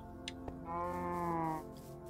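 A cow in Minecraft gives one drawn-out, fairly close moo after a couple of brief clicks, with quiet game ambience around it.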